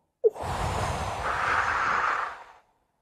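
A deep breath during a breathing exercise comes as one long, close, airy exhale lasting over two seconds before trailing off into quiet.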